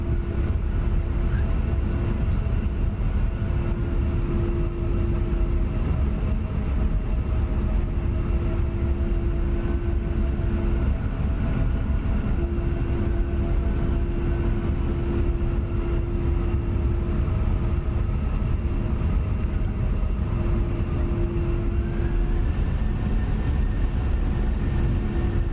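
An A-10 jet touching down in the DCS flight simulator, its steady engine whine and low broadband roar droning continuously and loudly throughout, with a sustained tone that bends upward near the end.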